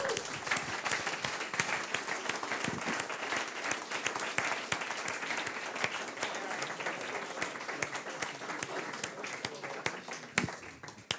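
Audience at a municipal open data hackathon awards ceremony claps in steady, dense applause, fairly close, lasting about eleven seconds without a break.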